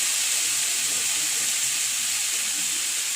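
Egg is added to cooked bitter gourd frying in a pan, giving a loud, steady sizzle that continues without a break, heard close with no talking.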